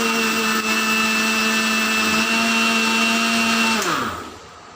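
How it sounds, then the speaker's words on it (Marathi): A mixer grinder whirs at high speed while grinding sambar masala powder, a loud steady motor whine with a rattling jar that winds down near the end. "आपण पुन्हा त्याला एकदा मिक्सरला फिरवून घेऊया"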